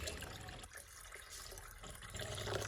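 Water pours and splashes continuously, close by, with a steady gushing sound.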